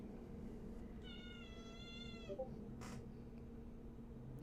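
A single drawn-out cat meow, clear and fairly close, over a low steady hum, followed by a brief rustle.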